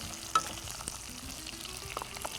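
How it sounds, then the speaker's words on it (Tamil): Shallots sautéing in a pan give a quiet, continuous sizzle with a few light taps and scrapes of a spoon, brief and fairly soft, with no voices. "இது கொஞ்சம் வதக்கணும், நல்லா சாஃப்ட் ஆகணும், அதில் வதக்கலாம்"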